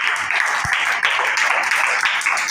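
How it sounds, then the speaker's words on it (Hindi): Enthusiastic applause from a gathered devotional audience rises as a steady, dense wash of clapping and continues evenly throughout the short stretch. "जोरदार तालियां"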